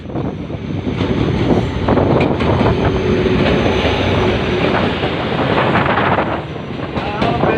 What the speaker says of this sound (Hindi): Fifteen up Karachi express arrival करते हुए बहावलपुर रेलवे स्टेशन पर 82 पावर के साथ।